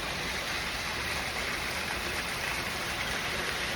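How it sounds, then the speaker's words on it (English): Steady spring rain falls straight down during a thunderstorm watch, a dense, even hiss of drops on surfaces that holds constant throughout, fairly loud and close with no voices. "Rain is pretty much coming down straight"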